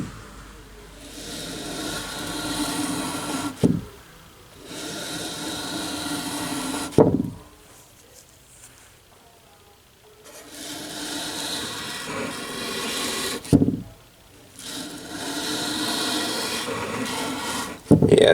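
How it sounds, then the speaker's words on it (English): A machete blade is drawn slowly along 600-grit sandpaper in long rasping strokes, each lasting several seconds, with quiet pauses and sharp taps between passes, close and steady. "I'm running the length of this blade up along the 600 grain sandpaper"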